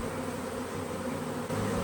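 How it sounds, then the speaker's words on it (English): Honeybees buzz densely around an opened beehive, a close, continuous hum with no pauses. "why is there so many bees?"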